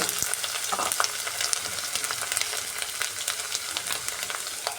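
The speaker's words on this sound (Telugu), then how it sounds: "లివర్ వేసుకుందామని మటన్ లివర్ ఒక నిమిషము కలుపుకొని" Mutton liver fries with ginger paste in a pan, giving a dense, continuous sizzle and crackle with scattered sharp spatters and stirring scrapes, close and fairly loud, with no talking.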